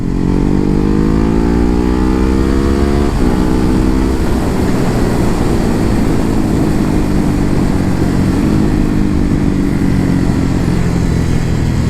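A Ducati Hyperstrada 939 motorcycle roars loudly and close while being ridden. The engine note drops and climbs again as it shifts gears without the clutch, a couple of times, over steady wind and road noise.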